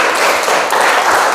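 Applause from a classroom audience for a student group, a dense, steady wash of many hands clapping at close range, loud and continuous with no talk over it.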